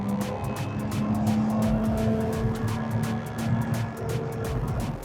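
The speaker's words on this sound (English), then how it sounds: "The Citroen C2 just overtook me." Racing on the Nürburgring Nordschleife as a Citroen C2 overtakes: a steady loud engine drone with rising and falling tones and regular thumping over the track surface.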